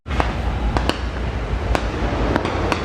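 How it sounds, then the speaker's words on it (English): Fireworks burst over the Cedar Point amusement park at night, sharp cracks and pops scattered over a continuous rumbling wash, loud and somewhat distant. "Yay, fireworks!"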